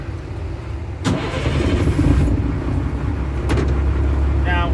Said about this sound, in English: Now I will go ahead and start the engine.